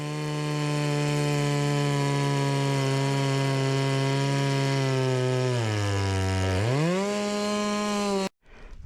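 A ported Farmertec Stihl MS660 chainsaw running lean screams at steady high revs, then spools down unevenly, dips, surges back up briefly and cuts off abruptly, loud and close.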